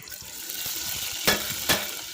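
A close, steady sizzle of spiny gourd frying in oil with onions, cumin and mustard seeds, with two brief scraping clatters of a utensil against the pan near the end.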